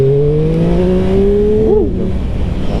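A 2023 Triumph Street Triple RS motorcycle with its stock exhaust runs on a road. The engine holds a steady, loud note that climbs slowly, then gives a quick rev blip near the end.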